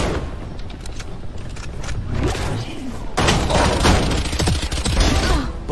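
Loud gunfire in the Valorant video game, dense bursts of shots with thumps and a sharp surge midway, close and continuous under game noise.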